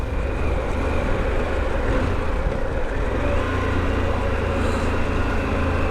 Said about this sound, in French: J'espère que le son de la moto sera un peu restitué dans le micro aussi